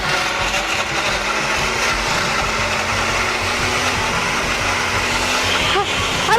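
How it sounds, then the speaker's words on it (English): A kitchen blender runs continuously with a loud, steady whirring hum, its motor pitch holding even throughout, while people talk faintly underneath. "Blender."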